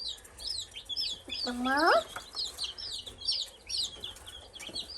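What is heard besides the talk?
baby chicks cheeping and clucking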